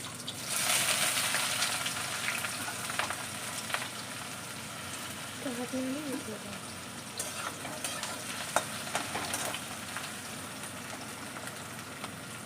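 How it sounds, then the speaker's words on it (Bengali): Two medium-sized onions frying in a pan with spices, a steady soft sizzle with occasional stirring scrapes, close and fairly quiet, with no talking. "পেঁয়াজগুলো ভালো করে ভেজে নেব।"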